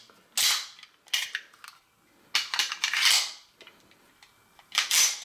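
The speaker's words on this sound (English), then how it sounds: "Just getting that mag in is very simple and easy to do." Magazine pushed into a Magnum Research Government 1911 pistol with a cast frame and a slightly beveled magwell, heard as a run of sharp, close metallic clicks and clacks in several separate bursts, with no talking.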